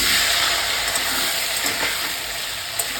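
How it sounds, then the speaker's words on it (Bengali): Potatoes sizzle and crackle steadily as they fry in hot mustard oil in a home kitchen, a loud, continuous frying hiss filling the clip with no talking. "এরপর আমি এই তেলে আলুগুলো ভেজে নেব।"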